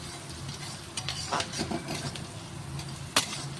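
Onions sizzling in a pan for jeera rice, with a steady frying hiss under repeated scraping and stirring strokes and one sharper utensil clack near the end.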